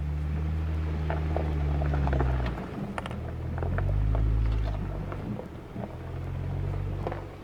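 A stock Jeep with no lift crawls slowly along a rough mountain road toward Ouray, its low engine rumble steady and close with scattered rattles and knocks from the bumpy track; no one speaks.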